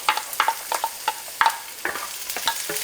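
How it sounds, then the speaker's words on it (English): Half a diced onion hitting hot cooking oil in a pan, a loud close sizzle broken by repeated rhythmic stirring scrapes, no voices. "Stir fry on high heat about a couple minutes until the onion is a bit softer or translucent"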